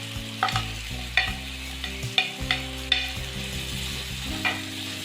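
Cabbage and mixed vegetables being stir-fried in a pan for Chinese rice, a steady close sizzle punctuated by several sharp scraping and tossing strokes of a spatula, no talking.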